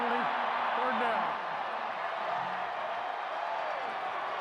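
A stadium crowd roars at a college football game between Oklahoma and Texas Tech, a dense, sustained wash of cheering with a voice talking over it.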